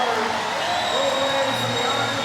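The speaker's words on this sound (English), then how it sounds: "The crowd are going wild for him." A crowd roars continuously at a swimming final of the men's 1500 m freestyle at Tollcross during Glasgow 2026, the cheer dense and sustained throughout, with a commentator's voice over it.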